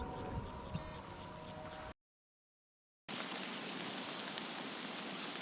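Timefall rain pours in a video game, a dense, steady hiss of falling rain that cuts to silence for about a second and then resumes just as strongly, with no voices.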